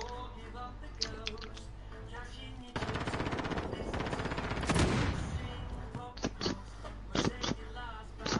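Bursts of automatic gunfire in the Call of Duty Modern Warfare video game, a long sustained rattling volley in the middle with sharper single shots before and after, loud and close.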